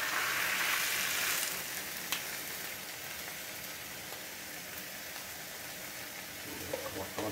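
Egg mixture sizzles on the griddle of a Masterbuilt 1050 gravity-fed smoker, a steady close hiss of frying with a louder burst at the start, then an even crackle running throughout.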